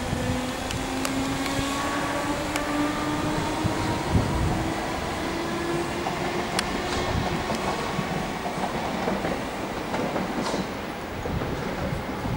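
A Southern class 313 electric train, unit 313-202, pulls out of Hove Station with a steady rising electric motor whine, rolling wheel noise and rhythmic clicks over rail joints, heard close and continuous with no talk.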